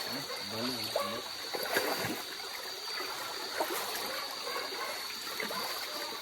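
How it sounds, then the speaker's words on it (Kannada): Fast-flowing stream water at night during a midnight crab hunt, a steady broadband rush and trickle of water running continuously close by, with no voices. "ನೀರು ತುಂಬ ಇದುಂಟು, ರಭಸ ಉಂಟು"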